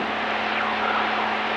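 Steady propeller drone of a Zenith CH 750 Cruzer light aircraft engine in flight, a constant close cabin hum with no voices.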